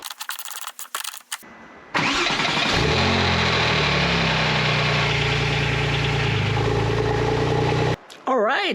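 A Porsche 911 turbo with a newly replaced starter cranks briefly and fires straight up, then settles into a smooth, loud idle close by for several seconds, with faint sounds before and after.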